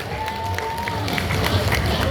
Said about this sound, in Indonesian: Oke, kembali tepuk tangan yang meriah buat Faya.